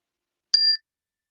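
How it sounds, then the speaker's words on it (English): A single meditation bell struck once to close a session, a clear ringing tone that fades quickly into silence. "I invite the bell to bring this time to an end."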